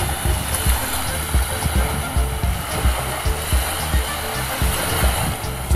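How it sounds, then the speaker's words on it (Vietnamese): Storm-driven waves surging and crashing against the shore at Ha Long Bay after a typhoon, a loud continuous rolling wash with heavy low rumble and wind noise, repeated surges throughout. "mọi người có thể nghe thấy tiếng sóng đánh gì vào."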